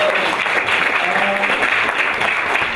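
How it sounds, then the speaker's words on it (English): A student comedy society audience at a Comic Relief show applauds its performers, a loud, continuous burst of clapping filling the room, with faint voices underneath. "can we have another round of applause for our performers?"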